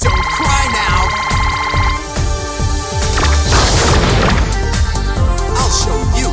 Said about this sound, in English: Stop setting off bombs.